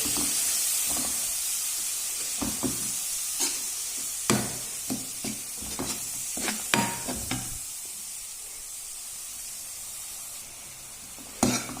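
Ground onion paste sizzles steadily in a pan for a green peas curry, with a continuous hiss broken by irregular stirring scrapes and clinks close by.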